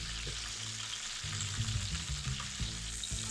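Cauliflower pieces frying gently in a pan for a korma, a steady soft sizzle with occasional stirring bumps, close and fairly quiet.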